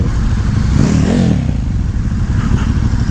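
A KTM 1290 Super Duke R with an aftermarket exhaust revs loudly and close, its deep engine note swelling in a rough, throaty surge before settling back to a steady rumble.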